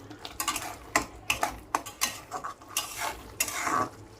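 A spoon stirs pointed gourd bharta in a pan over a high gas flame, making rhythmic scraping and clinking strokes about every half second over a faint sizzle, close up and without talk.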